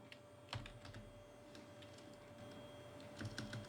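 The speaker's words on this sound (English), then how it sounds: "we just go ahead and type void on move" Soft, quiet tapping of keys on a computer keyboard while entering code, scattered keystrokes in small bursts over a faint steady hum, without any voices.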